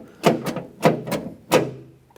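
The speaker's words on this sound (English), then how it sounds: "So now if you operate the door handle from the outside" Exterior rear passenger door handle on a Ford E-350 van worked from outside, giving three close, distinct mechanical clunks spaced about half a second apart.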